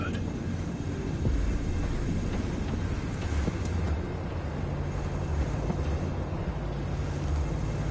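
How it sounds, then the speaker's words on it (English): A train rumbles along inside Cyberpunk 2077, a dense low-frequency roar and mechanical drone holding steady and loud throughout, with a faint voice partly buried beneath it. "Warning, train inbound."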